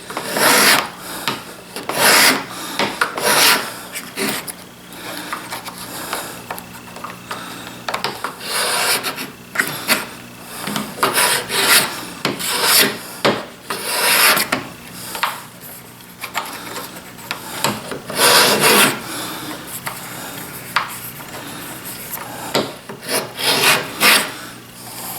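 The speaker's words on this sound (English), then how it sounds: "Now it's just a matter of planing this down, even with the sides." A hand plane shaves a wooden chisel cover flush with its sides in repeated rasping strokes of uneven length, close and fairly loud, with short gaps between passes.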